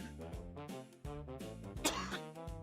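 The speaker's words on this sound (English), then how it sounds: "Sorry about the coughing." A person coughs repeatedly at close range into a microphone, a series of sharp, harsh bursts with short gaps, with some throat clearing mixed in.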